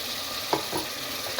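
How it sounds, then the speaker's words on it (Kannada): Ground masala paste for egg biryani sizzles in hot oil in a pan, a steady close frying hiss broken by a few stirring scrapes, with no voices. "ಈಗ ರುಬ್ಬಿಕೊಂಡಿದ್ವಲ್ಲ ಮಸಾಲೆನ ಅದನ್ನು ಹಾಕೊತಾ ಇದ್ದೀನಿ"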